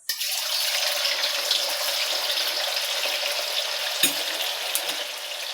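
Tofu fries in hot cooking oil with a steady, dense sizzle that starts abruptly and holds loud and close, with a couple of brief pops and stirring knocks near the end.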